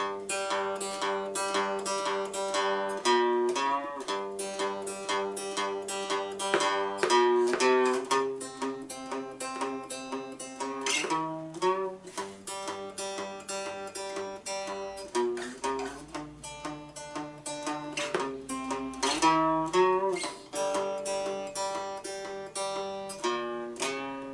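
Steady strummed three-string cigar box guitar with a twangy, bright tone, repeating chords in an even two-bar rhythm, played alone and close up.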